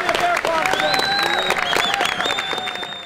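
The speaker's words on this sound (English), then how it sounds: "Round of applause to the new 2013 Boys Nation Vice President, Mr. Fairclough." Delegates at the 2013 American Legion Boys Nation Senate applaud the newly chosen vice president, a busy spread of claps mixed with whistles and cheering voices.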